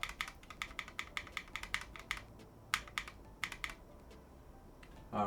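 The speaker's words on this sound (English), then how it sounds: "you want to make sure you grab your keyboard and you start spamming the delete key" Rapid repeated presses on a computer keyboard's delete key while a PC with an MSI MPG B850 Edge Ti motherboard powers on, a quick irregular burst of sharp clicks that slows to a few scattered taps.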